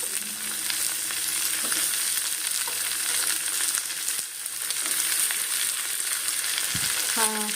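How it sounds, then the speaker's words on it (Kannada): Roasted chayote pieces frying with onions in a pan for a curry, a continuous loud sizzle with scraping stirs and occasional clinks of the spoon against the pan, no talking. "ಇದು ಕೂಡ ಸ್ವಲ್ಪ ಹಸಿ ವಾಸನೆ ಹೋಗೋ ರೀತಿಯಲ್ಲಿ ಫ್ರೈ ಮಾಡ್ಕೋಬೇಕು"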